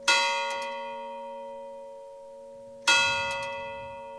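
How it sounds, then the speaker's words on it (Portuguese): Restored church bells in a separate bell tower of a sanctuary ring out, two loud clear strikes about three seconds apart, each leaving a long humming decay. "Os sinos foram restaurados e agora badalam de hora em hora."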